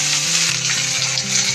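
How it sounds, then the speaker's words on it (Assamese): Chopped onion fries in hot oil in a home kitchen, giving a steady, dense sizzle throughout with faint stirring underneath and a low hum in the background. "পিঁয়াজখিনি এৰি দিলোঁ ধুনীয়াকৈ ভাজি ল'ম"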